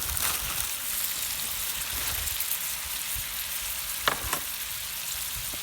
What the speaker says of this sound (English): We want to get these shrimp all sauteed in there